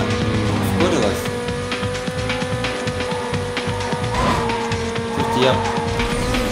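In the Need for Speed Carbon racing game on PS2, a tuned race car drifts through a canyon with a loud engine drone and repeated squealing tire skids, while someone talks over it throughout.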